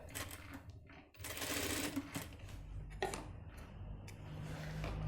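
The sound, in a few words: sewing machine stitching pant back pocket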